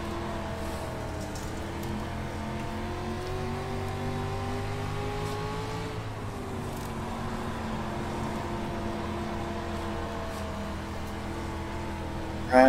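Dirt street stock race car engines roar continuously in iRacing at Lernerville, a steady layered drone with pitches rising and shifting as cars accelerate and pass, holding loud throughout with no talking.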